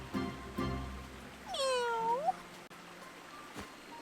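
A cat meows once, clear and drawn out with a rising-falling pitch, in the Octopath Traveler 2 video game. It follows a pair of short soft sounds and rises above faint background music.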